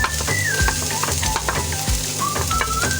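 Garlic, onions and ginger sizzle steadily in a tablespoon of hot oil, with a utensil clinking and scraping the pan several times. A faint chirping tone runs over the frying.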